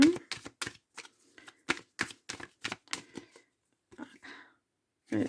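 Tarot cards being shuffled and cut by hand, a quick series of crisp close slaps and riffles in an irregular rhythm, with short pauses between bursts.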